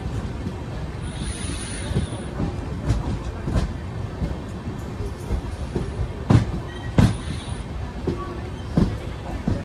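A train rolls along the rails near Sangameshwar Road, on the Mangla Lakshadweep Express route, with a steady rumble, irregular clicks and clanks from the wheels, and faint squeals throughout.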